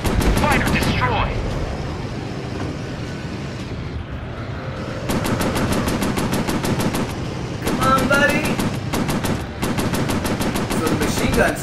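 Rapid machine gun bursts from a Pacific warplane combat video game, loud repeated volleys separated by short pauses over a steady engine-like drone, with some background game sound.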